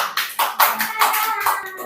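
Hands clapping in a classroom during a lesson on sadaqah, a run of broad claps at a steady pace over about two seconds, fairly close and moderately loud.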